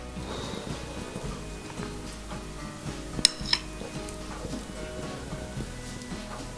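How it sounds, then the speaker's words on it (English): Teaspoons scooping cream cheese filling into Finnish rahkapulla buns give two brief, light clinks of metal against a dish over a faint, steady kitchen background. "So take a couple of teaspoons of the filling and fill in the middle."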